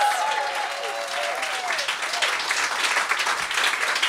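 An audience at a poetry and stand-up event applauds with steady, dense clapping throughout, while a voice speaks briefly over the start.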